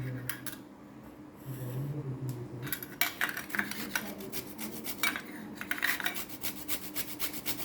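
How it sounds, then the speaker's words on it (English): Jaggery grated by hand on a kitchen grater for Goan coconut pancakes, heard as steady close rasping scrapes that grow louder and more rhythmic in the second half, with no talking. "So you have to grate this jaggery."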